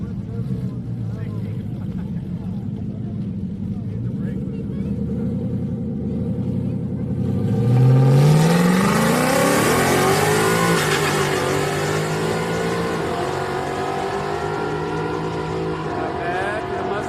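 A drag-racing car, a Mustang or Camaro, roars off the line at Houston Raceway Park, its engine climbing in a loud rising rev that swells to a peak and then stays as a broad roar, with distant crowd noise and a commentator talking.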